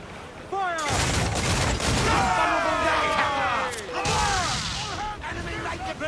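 Ship cannons fire in a naval battle in the pirate game Assassin's Creed IV Black Flag, loud booming volleys with crashing debris amid a chaotic din, while voices shout over the blasts.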